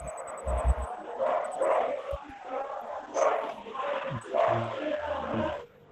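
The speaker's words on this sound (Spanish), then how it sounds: "Uy, pero hay una pelada de perros por allá tremenda." Several dogs bark, yelp and snarl in a scuffle some distance off, an irregular outdoor racket of overlapping barks that rises and falls and fades out near the end.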